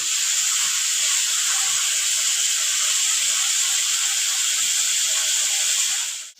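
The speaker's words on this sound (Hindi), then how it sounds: "अदरक लहसुन का पेस्ट डाल देंगे। इसको 5 मिनट के लिए भूनते हैं।" Ginger garlic paste sautéing for chicken karahi gives off a steady, close, bright sizzling hiss that holds at an even level without a break and cuts off abruptly near the end, with no talking.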